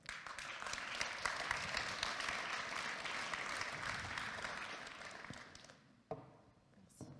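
Audience at an H7 Web3 incubator closing evening applauds a speaker onto the stage, broad sustained clapping that fades out near the end.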